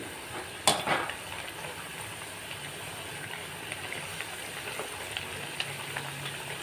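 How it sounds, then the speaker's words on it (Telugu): Onion and green chilies frying in a pan give a faint, steady sizzle with a few small crackles and pops, heard alone at low level. "చక్కగా గోల్డెన్ కలర్లో ఫ్రై అయ్యేదాకా ఉంచుకుంటే ఫ్రైగా ఆ ఉల్లిపాయ పచ్చిమిరపకాయ అన్నది తగులుతూ ఉంటే చాలా బాగుంటుంది"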